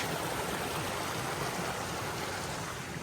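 A mountain brook on the Kinsman hiking trail in the White Mountains, a steady, full rushing wash of flowing water heard close up and unbroken, with no voices over it.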